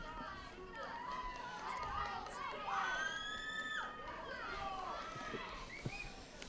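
Spectators cheer, shout and whistle for the Hughes Powers team at an APTA Nationals men's paddle tennis quarter-final, a dense crowd roar with shrill rising calls throughout and voices mixed in.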